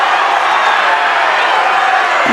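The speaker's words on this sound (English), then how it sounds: "The crowd's not happy because they think that the other player bumped into her" A girls' high school basketball crowd at a regional final in Portland, a steady loud roar of many voices, restless and displeased, filling the gym without a break.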